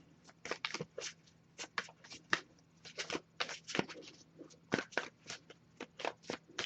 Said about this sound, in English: I'll give it a few more shuffles before I move on